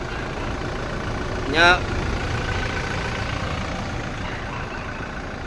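A 2018 Toyota Hilux G 4x2 idles with a steady low engine rumble, while a short spoken word cuts briefly over it.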